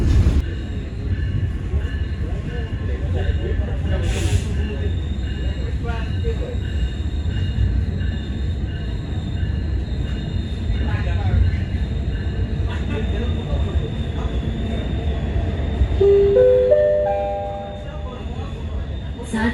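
A KA Commuterline Supas commuter train pulls into Bangil station, its steady low rumble and rattling wagons close by, with a brief squeal and a rising chime of stepped electronic tones near the end as the rolling noise fades.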